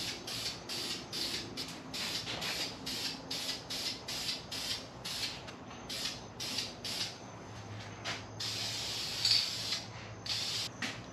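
Chassis paint hisses from a spray can onto GTO front control arms in a long run of short rhythmic bursts, each a sharp close spray, with brief pauses and a faint rattle between them.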